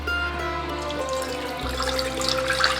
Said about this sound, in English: the first step is we're going to add the 600 grams of water